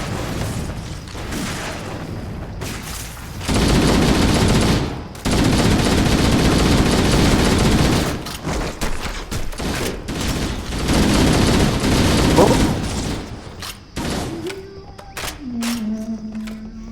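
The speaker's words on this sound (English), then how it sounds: "Oh, it's a shotgun." Shotgun blasts and other gunfire in Halo: The Master Chief Collection, loud sustained bursts of firing with booming impacts, broken by short pauses, with brief talk near the end.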